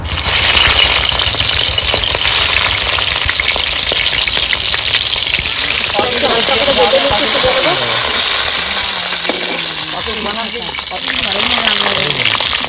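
Cabbage fritters frying in hot oil for a vegetarian paneer paturi recipe give a loud, dense crackle and hiss up close, with bubbling bursts and some background noise shifting partway through.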